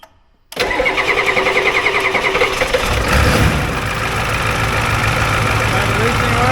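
An OBS Ford F-350 diesel, its injector lines recently off and refitted, cranks after a moment of silence and catches, then runs at a loud, rough, steady idle up close with a slight rise in revs, as voices murmur underneath.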